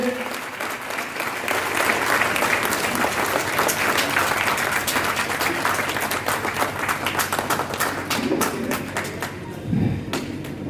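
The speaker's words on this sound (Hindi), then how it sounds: "ताली नहीं रुकनी चाहिए।" Steady, loud applause fills a town hall during memento presentations at a private schools association annual function, many hands clapping continuously with a few thumps near the end and some voices underneath.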